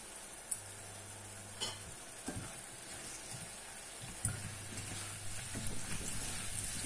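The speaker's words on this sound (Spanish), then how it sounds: "Y lo dejamos que se nos frían las dos cositas juntitas." Two ingredients fry together in a pan with a soft, steady sizzle, punctuated by a few scraping stirs and light utensil knocks, fairly quiet and without talk.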